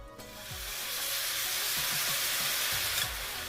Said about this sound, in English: Next, we're going to place our noodles into the wok.